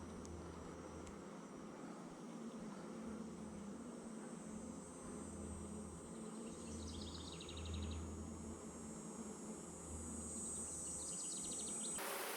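Honeybees hum softly around an open hive during an inspection, a low steady drone that stays faint and close throughout, with a few brief higher buzzes and no speech.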